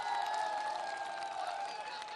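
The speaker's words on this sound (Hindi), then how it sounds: "तालियों के साथ स्वागत कीजिए आरपी यादव का।" A crowd at an Uttar Pradesh election event in Raebareli applauds to welcome Samajwadi Party candidate RP Yadav. The clapping is a moderate, steady wash with a sustained tone ringing over it.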